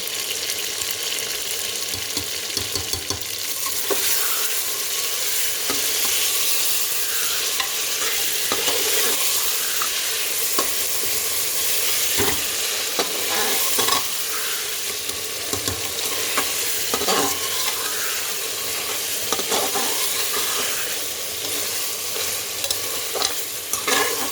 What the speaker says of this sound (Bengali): একটু কষানো যাক ভালো করে।